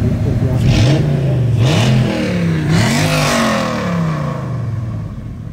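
Yellow BMW rally car with a 315-horsepower V8 accelerating hard on a mountain hillclimb course, its engine revving up and down through several gear changes, loud and close, then easing off slightly as it pulls away.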